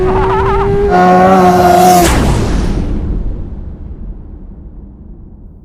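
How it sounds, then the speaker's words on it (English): A 2016 Suzuki GSX-R 1000 standard-wheelbase motorcycle revving hard, its high engine whine rising, then a quick roaring pass before the sound fades away into the distance. "Today we've got that sexy 2016 Suzuki Gsxr 1000 standard wheelbase."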